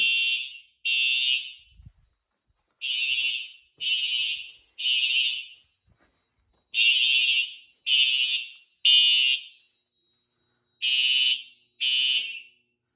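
A Simplex fire alarm system with TrueAlert horns sounds after a pull station is activated. Loud, piercing electronic horn blasts repeat in short on-off groups, about eleven pulses with brief silent gaps between them, close by and with no talking.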